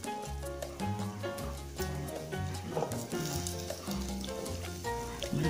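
Seasonings stirred and sizzling in a cooking pot for Jamaican-style brown stew butter beans, a steady close frying crackle with scraping stirs throughout.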